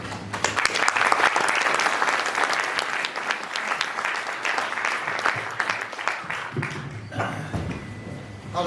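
An audience at a Bournemouth pro-Europe political meeting claps steadily for several seconds, a dense, close patter of many hands that tapers off toward the end, with a voice starting to speak as it fades.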